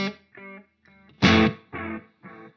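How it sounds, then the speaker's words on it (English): Guitar through a Line 6 DL4 MKII pedal set to a tape echo: a struck chord followed by a run of separate, decaying repeats with slightly warbling, softened tone, then a louder chord that echoes again, fading step by step. "that sounds like a tapey echo sort of thing"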